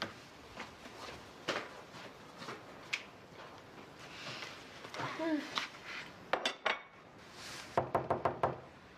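Dishes clink and clatter at a sink, with scattered knocks of plates and cutlery, faint and intermittent, and soft voices in the background.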